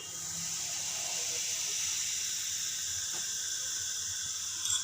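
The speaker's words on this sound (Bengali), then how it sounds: "এই ভিনিগারের মধ্যে 1/4 চামচ বেকিং সোডা দিয়ে দেব।" A quarter teaspoon of baking soda goes into about two spoons of vinegar while making an eggless sponge cake, giving a steady, soft fizzing hiss close by and alone.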